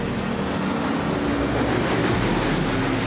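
A Scania bus passing on an Indonesian road, a loud, continuous broadband engine and tyre roar heard close up that stays steady for a few seconds with no voices.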